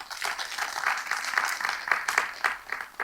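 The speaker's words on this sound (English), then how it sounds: "So I think that Professor Okram Singh deserves a big round of applause" Conference audience claps in steady applause, a dense patter of many hands at moderate loudness with gentle swells, no voices over it.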